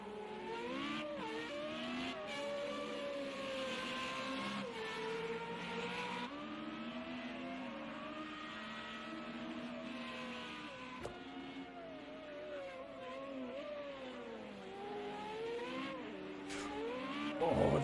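FR35 formula race cars race at the Algarve circuit, several engines wailing and shifting through gears as they climb a hill, with continuous overlapping revs, brief tire squeal and a pack passing close.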